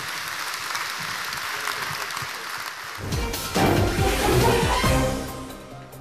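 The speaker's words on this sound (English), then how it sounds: "Give him a round of applause." A studio audience at a media forum broadcast claps for a guest, faint scattered clapping at first that swells into a fuller, louder round of applause before easing off.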